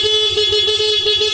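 A stock horn on a Suzuki Smash 115 motorcycle gives one steady, loud, sustained honk at close range, held throughout.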